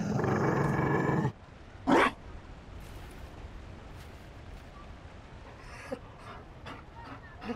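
A Mabari dog in Dragon Age: Inquisition growls in a low rumble, followed by a sharp bark-like burst and then quiet, soft panting breaths with faint clicks, close by.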